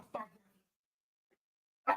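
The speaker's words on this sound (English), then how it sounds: "My dog." A pet dog at home gives two short, sharp barks about two seconds apart, fairly close and otherwise surrounded by silence.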